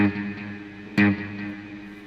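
Electric guitar played with a short, quick delay effect, a sustained chord fading before a sharp new strum near the middle rings out with tight echoing repeats, clean and moderately quiet.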